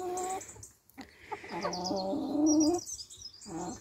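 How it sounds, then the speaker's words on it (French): A hen gives a run of loud, harsh squawks and clucks, close by, with brief pauses between bursts and no talking. "Donc là elle piaille pour dire que c'est elle la chef."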